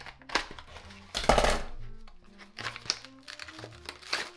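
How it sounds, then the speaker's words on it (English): A blade slitting the packing tape on a cardboard SSD box during a PC build, heard as close crinkling, tearing and scraping sounds with sharp bursts and a louder rip midway. "let's cut the tape on this box"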